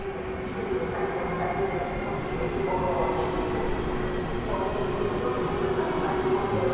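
A Łódź agglomeration railway train pulls into Łódź Fabryczna station with a continuous rumbling roll and a steady tonal hum from the carriages, loud and unbroken throughout.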